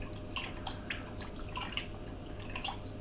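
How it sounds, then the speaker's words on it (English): Liquid stock trickles and drips into a pan of celeriac, faint splashes and drips scattered across a quiet, steady background. "I'm going to add my stock. which I need to stir."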